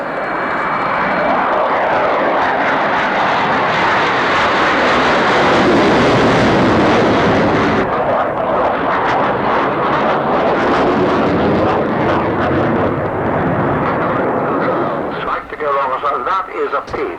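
Jet aircraft powered by Tumansky turbofan engines roaring at the Farnborough air show, a loud, sustained broadband rumble and whoosh that swells and shifts as it passes, with commentary over a public address.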